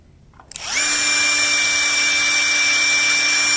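Tekiro 20V cordless impact driver spins up sharply and drives a screw into hard wood, a steady loud high-pitched whine with a rapid hammering rattle, close-up and with no talking.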